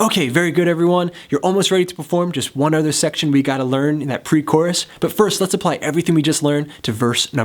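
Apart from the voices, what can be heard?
No everyday noises stand out.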